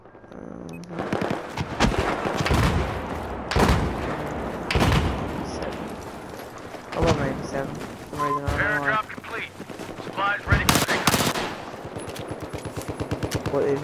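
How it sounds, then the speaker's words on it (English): Machine gun fire in the shooter game Battlefield 4, repeated sharp bursts and single heavy shots, loud and close, mixed with a rapid rattling stretch near the end and voices talking in between. "The enemy machine gunner has been identified west of your location."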